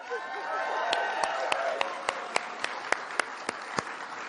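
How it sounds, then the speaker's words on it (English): A crowd applauds Sophia at an event with Kamala Harris, steady dense clapping punctuated by one person's sharp, evenly spaced loud claps close by. "Can we please applaud Sophia?"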